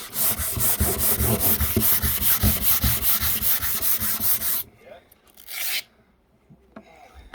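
Sandpaper scrubs an antique pine Victorian chest of drawers in fast, loud, rhythmic back-and-forth strokes for several seconds, then stops, followed by a short burst of rubbing and quieter handling noises.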